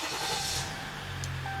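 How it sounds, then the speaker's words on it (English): A Dodge Ram pickup truck with a power steering fault cranks and fires up, then idles with a steady low rumble, close by and without any talking. "now I'm going to start the engine so we can confirm the complaint"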